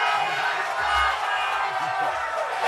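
A congregation at a Sabbath religious service cheers and whoops as a loud, dense crowd roar that fills the entire stretch, with shouted voices rising out of it.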